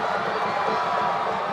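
Football stadium crowd in Cebu roaring after an opening goal in a Philippines Football League match, a dense, steady wall of cheering and shouting that fills the whole stretch without letup.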